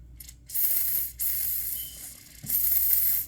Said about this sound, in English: if you do a little light wiping, you can prevent all that extra spray on your wheels